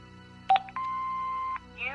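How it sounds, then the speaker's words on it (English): An answering machine in the Broken Sword 5 video game gives a short double beep, then a long steady electronic tone that ends abruptly, followed by a faint warbling sound. The tones are clear and close. "Hobbs's answer phone."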